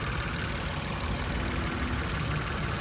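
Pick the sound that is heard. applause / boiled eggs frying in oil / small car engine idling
small car engine idling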